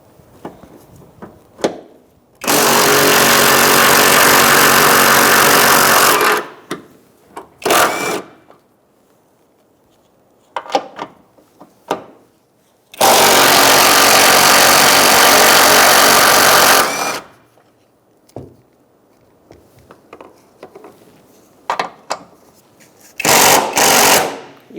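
A power tool with a 15mm socket spins off the top strut mount nuts on a 2002-2006 Toyota Camry in two loud, sustained bursts of several seconds each, separated by quieter clicks and handling noises.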